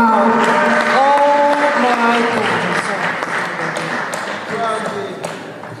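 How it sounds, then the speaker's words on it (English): Applause from an audience at a UK gospel music awards ceremony runs throughout, with a voice speaking over the clapping at times as the noise gradually tapers off. "give her a round of applause, Demo!"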